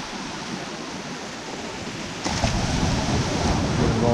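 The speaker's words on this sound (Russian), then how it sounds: "Волна прям на сетку стала падать." Waves on the Barents Sea breaking onto a fishing net, a loud, steady rushing wash of surf close by that surges stronger partway through, with wind noise and no talking.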